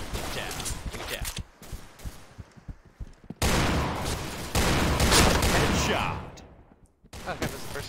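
Gunfire in the online shooter Piercing Blow: bursts of rapid shots, then loud sustained automatic fire, close and harsh, with a short pause before more shooting resumes.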